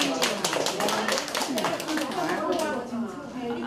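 Guests clap at a small engagement ceremony, a brief patter of hand claps mixed with overlapping chatter and talking voices throughout.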